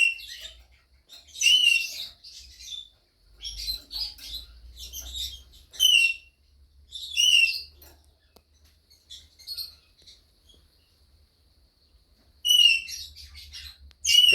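Pet parrots call loudly during a shower, giving sharp, squawking bursts in repeated clusters separated by short pauses, with a low hiss of running water underneath.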